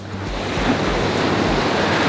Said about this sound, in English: The waves get huge here.